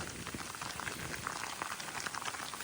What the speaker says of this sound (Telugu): వర్షం బాగా కొడుతుంది.